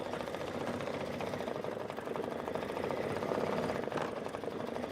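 A sewing machine stitches steadily at close range, its rapid mechanical needle rhythm running continuously with a busy clattering texture.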